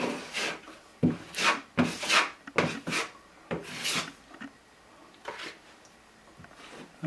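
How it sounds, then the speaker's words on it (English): A cheap dollar-store trowel scrapes and spreads drywall mud over a patched hole in a wall, giving a series of irregular close rasping strokes with short pauses between them. "I'm just using a cheap trowel from the dollar store"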